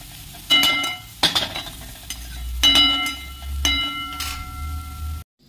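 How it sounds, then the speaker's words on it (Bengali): A turmeric spice masala frying in oil gives a low sizzle, broken by several sharp metallic clinks and scrapes of a spoon stirring against the pan. "তো মশলাটাকে কিছুক্ষণের জন্য জাল দিলাম, মানে তেলটা যতক্ষণ না বেরিয়ে আসবে ততক্ষণ পর্যন্ত।"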